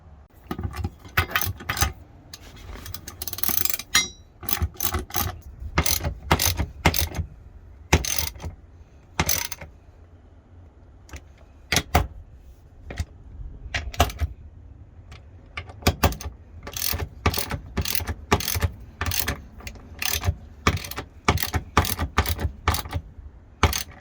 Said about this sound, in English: So we're just gonna go ahead and install the bolts.